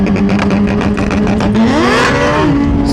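Suzuki GSX-R 1000 sportbike launching hard off a two-step with no traction control, rear tire spinning: a loud near engine stutters on the limiter, then sweeps up sharply in pitch and drops back as it pulls away.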